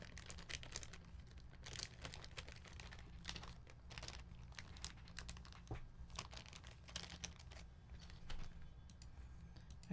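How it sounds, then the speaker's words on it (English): A plastic bag crinkles and rustles quietly and steadily as a spacebar keycap is worked back into it, with soft, irregular crackles close up. "I gotta fit this spacebar keycap back into this bag."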